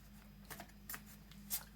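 Soft riffling of cards being shuffled, a few brief bursts of flicking over a low steady hum, with no one talking.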